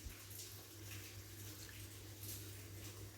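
Water, two glasses per glass of rice, goes into a pot for tomato rice in a home kitchen: a steady, faint pouring splash under soft background hiss, with no talking.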